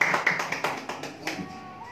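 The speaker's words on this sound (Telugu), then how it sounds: "అందరూ కూడా క్లాప్స్ కొడదాం" An audience at a Christian Joint Action Committee meeting claps briefly, a quick burst of close, fairly loud rhythmic hand claps lasting about two seconds.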